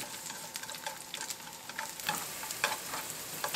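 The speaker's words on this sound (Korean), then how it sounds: "마늘과 페퍼론치노를 넣고 볶아 향을 입혀줍니다." Garlic and peperoncino sauté in plenty of olive oil, giving a close, steady sizzle with crackling pops and light stirring scrapes throughout.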